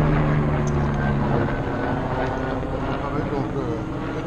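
A helicopter in a video game gives off a steady, droning rotor-and-engine hum that holds throughout, with voices talking over it.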